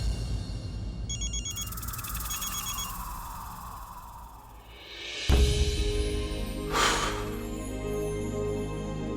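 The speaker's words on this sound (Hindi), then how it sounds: "वो अभी मुझे एक फोन आया है" A phone rings indoors during a Hindi TV drama scene, a repeating electronic ringtone with tonal chirps, followed by a sudden louder shift and a bright swell, with no speech.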